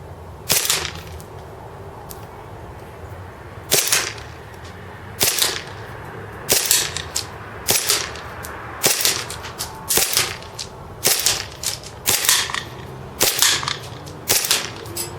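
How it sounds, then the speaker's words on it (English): A WE Silver Sword Cutlass M9 gas blowback airsoft pistol fires at a target about 50 feet away. About a dozen sharp, loud cracks come in a steady, fairly quick rhythm, with no talking. "this gas blowback fires a lot faster than most other gas blowbacks"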